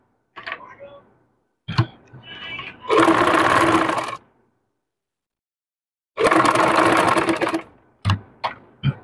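A sewing machine stitches along a dress neckline design in two long, loud bursts, with shorter starts and stops around them and brief speech between runs.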